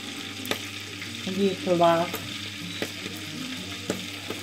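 Food frying and spattering in a pan gives a constant close sizzle with scattered pops and crackles, while a person speaks briefly over it.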